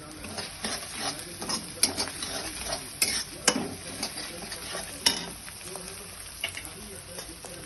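Green chillies and sambar spice sizzle steadily in hot oil for a wheat and dal khichda, with a few sharp clinks and scrapes from stirring over the crackle.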